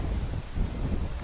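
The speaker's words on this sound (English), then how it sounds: "It's just very windy." Strong wind on the open shore at Deerfield Beach buffets the microphone with a continuous loud, gusty roar and no talking.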